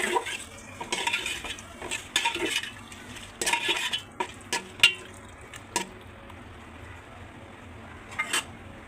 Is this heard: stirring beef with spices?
yes